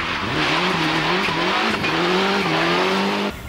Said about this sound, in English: it is the Toyota Celica GT4 rally car